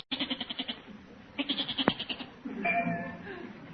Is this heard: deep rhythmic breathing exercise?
no